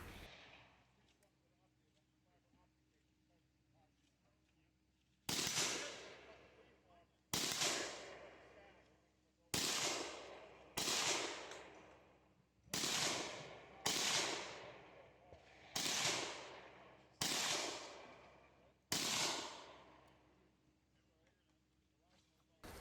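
Rifle shots at targets in a two-gun shooting match fired from a sturdy position with surplus stripper clips, about a dozen loud, sharp reports with echoing tails spaced a second or two apart, following quieter talk.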